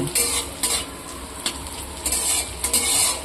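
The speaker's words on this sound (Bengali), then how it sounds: "কাঁচা লঙ্কা আর আদাতে রসুনেতে একসঙ্গে ভাজা হলে এর যা দারুণ একটা সেন্ট উঠে না" Green chillies frying with ginger and garlic in a hot pan, a loud close sizzle with repeated scraping stirs of a spatula against the metal at an uneven rhythm, no talking.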